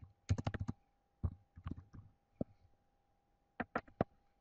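Typing category names into a spreadsheet on a computer keyboard: short quiet bursts of rapid key clicks separated by pauses, with a few isolated taps, close by and with no speech.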